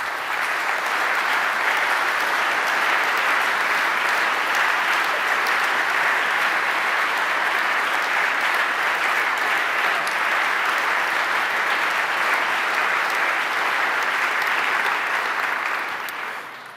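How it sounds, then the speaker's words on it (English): Sustained applause from a conference audience at a Ukraine reconstruction gathering in Kyiv, a steady, loud, even roar of many hands clapping for the full stretch before tapering at the end. "Once again, this is your applause."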